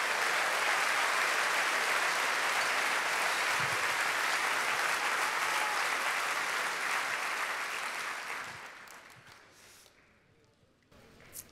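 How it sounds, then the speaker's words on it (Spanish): Church congregation applauds steadily for about eight seconds, a dense even wash of clapping that then thins and fades to near quiet with a few scattered claps. "Vamos a darle un aplauso."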